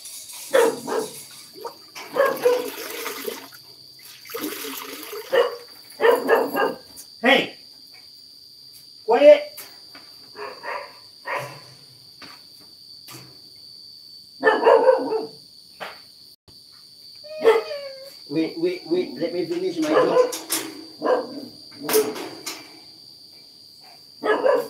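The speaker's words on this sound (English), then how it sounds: "Stop barking, please." Barks come in scattered bursts mixed with a person talking, while a steady high insect chirr runs underneath throughout.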